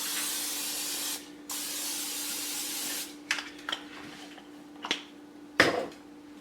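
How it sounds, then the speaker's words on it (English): Butter-flavored cooking spray hisses out of a can onto baking pans in two long bursts, then a few shorter sprays and light clatters of the pans, close and fairly loud. "I'm gonna go ahead and start spraying my pans with this butter flavored spray."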